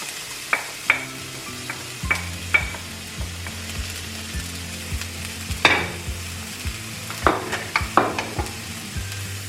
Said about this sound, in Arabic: درت شويه ديال الزيت في المقله